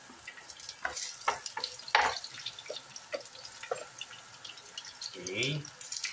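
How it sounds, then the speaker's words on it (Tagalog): Onions brown in olive oil in a pan, a light crackling fry with clicks and scrapes of stirring, close up, while a person's voice murmurs intermittently in the background. "iba-brown lang natin siya with the sibuyas"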